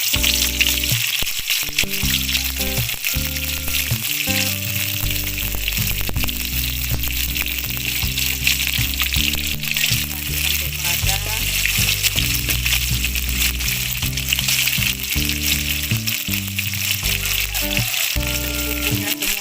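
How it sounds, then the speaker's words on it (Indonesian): Chopped spices and bay leaves sauté in hot oil for a papaya flower stir-fry, giving a steady, dense sizzle that carries on unbroken with soft stirring and music underneath. "Selanjutnya bumbu ini kita tumis ke dalam minyak yang sudah panas."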